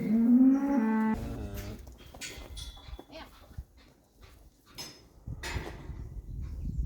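Cattle on a French farm lowing, one strong close moo opening the scene, followed by softer farmyard noises, a dog's whimpers and people talking nearby.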